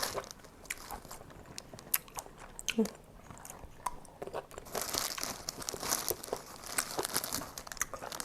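Crunchy bites and chewing on food, with crinkling packaging sounds mixed in, close and fairly quiet, the chewing growing busier in the second half.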